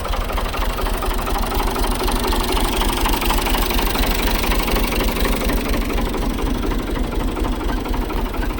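A tractor engine idles steadily in a rural village near Talumba while a plough is fitted behind it, a loud, close, continuous knocking rumble with no talk over it.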